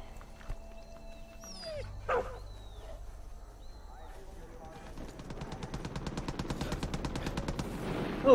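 Dog barking amid gunfire in the video game Far Cry 5, with sharp shots and a rapid burst of automatic fire building toward the end, mixed with game effects and a voice talking over it.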